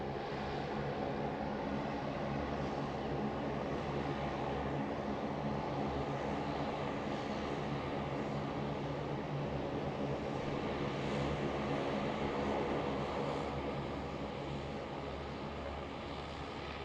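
Aircraft engines at Sydney Airport give a steady, loud, broadband roar that holds without a break, with no talking.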